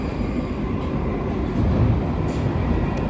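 A London Underground Northern line tube train runs through a tunnel with a loud, steady roar and rumble that swells slightly near the middle. No voices are heard.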